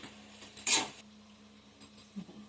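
A cauliflower snack mixture being stirred in a pan at home, with a few soft metallic scrapes and clinks of a spoon against the pan, fairly faint and spaced irregularly, with no talking.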